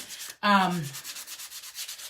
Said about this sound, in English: So I'm just sanding this a little bit, guys, just to give it some more rustic flair.